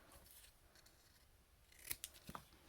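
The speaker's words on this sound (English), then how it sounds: "I'm going to just snip off the ends to angle that banner" Scissors snip a cardstock banner's ends to angle them, a few crisp close cuts near the end, alone over a quiet room while a card is being made.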